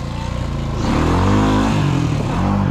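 Honda ATV, a Fourtrax 300 or Rancher 350 on a mild build, revving up hard for a wheelie, a loud close engine that climbs in pitch and holds a strong drone before easing slightly.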